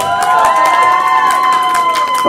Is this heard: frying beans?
no